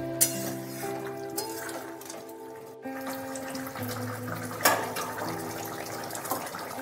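Water is poured into a simmering pea and potato curry, a splashing, gurgling pour heard over a steady background hum with a few clinks and bumps.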